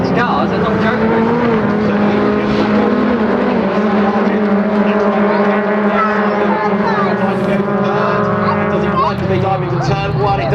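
Rallycross cars race at Silverstone in a continuous loud engine roar, several cars droning and shifting pitch together as they pass, with faint commentary beneath the din.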